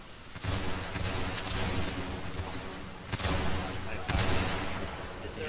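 Gunfire in a Civil War-era multiplayer video game: a dense, booming crackle of many shots with several louder volleys standing out, continuous and fairly loud throughout.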